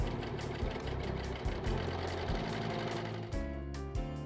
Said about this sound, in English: Set your machine up for a balanced 4-thread stitch and soft gather the other edge of the strip.